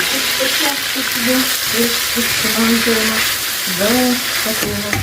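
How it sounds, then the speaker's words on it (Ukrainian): Onion and red bell pepper frying while stirred, a continuous sizzle under a loud tonal hum or voice-like sound, with no clear words. "Підсмажуємо, не забуваємо помішувати."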